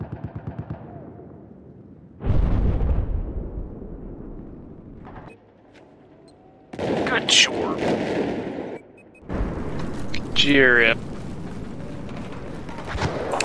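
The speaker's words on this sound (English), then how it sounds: "That was a big ass explosion." Loud booming blasts and rumbling gunfire from Battlefield 4, separated by quieter stretches, with brief speech and a high tonal sweep near the end.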